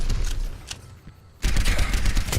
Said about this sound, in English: look at them crouching those Helix rockets